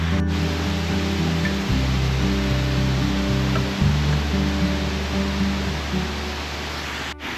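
Steady, loud broadband roar of a waterfall swollen by heavy rains, with a massive fallen tree lying in front of it; the rush is continuous and close, with no voices.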